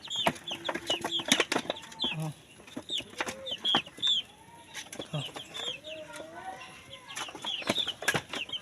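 Hungry tiger-breed chickens that have not been fed all day cluck and squawk close by, with a busy overlapping chatter of short calls and sharp bursts, some wing flapping and brief voices in between.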